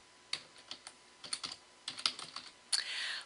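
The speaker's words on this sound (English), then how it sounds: "Type it again to confirm." Keys clack on a computer keyboard as a password is typed, several quick irregular bursts of taps ending in a longer run of keystrokes, close and clear with no talk.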